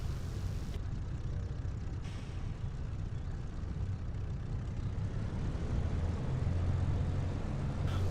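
An aircraft taxiing in a DCS or War Thunder flight simulator, with a steady low engine drone and propeller rumble running continuously at an even, moderately loud level throughout, with no voices.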